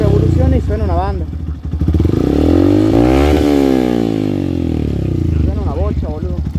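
A Yamaha FZ motorcycle fitted with a Paolucci stage 2 exhaust revs loudly close by, its deep engine note rising and falling through several blips, with a person talking over it at the start and end.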